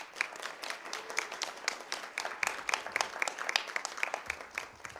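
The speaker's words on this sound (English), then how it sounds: "Can we give them a round of applause?" A school-board meeting audience applauds district winners of a 4th and 5th grade fire prevention poster contest, steady clapping from many hands sustained through the whole stretch at moderate loudness.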